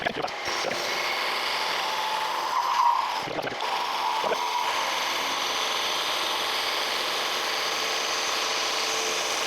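A horizontal milling machine cuts the end of a cast iron foundry square in a workshop, giving a steady, continuous mechanical whir and grinding hum that runs throughout, with a brief change in tone near the start.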